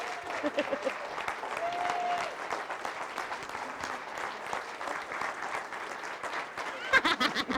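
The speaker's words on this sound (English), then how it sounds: "Let's give a round of applause and stand on our feet for Miss Tony Procopio." Sustained audience applause at a regional energy-company training event as people stand, dense steady clapping with some whoops and a voice briefly calling out over it near the end.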